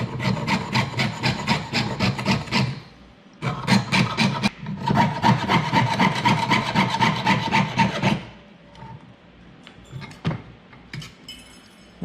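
A hand saw cuts through sheet metal in steady, rhythmic back-and-forth rasping strokes, loud and close, broken by short pauses before quieter scraping and tapping near the end.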